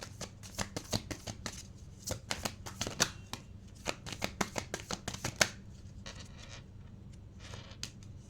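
Tarot cards are shuffled by hand in quick, soft riffling bursts that repeat in a loose rhythm, close and fairly quiet, with no speech.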